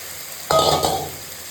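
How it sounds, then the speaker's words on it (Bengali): A sudden loud hiss and crackle as meat hits hot oil with browned onions in a pot, with a metallic clink, then the sizzle settles into a steady frying sound. "মাংসটা দিয়ে দেবো এখন একটু ভেজে দেবো"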